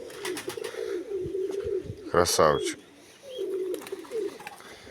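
Pigeons in a yard dovecote give repeated soft, throaty coos, close and fairly loud, with a brief burst of flapping or scuffling in the middle while someone speaks over them.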